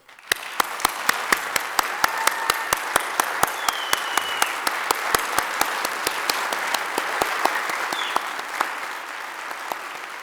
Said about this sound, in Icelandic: gefa þessum frábæra hópi gott klapp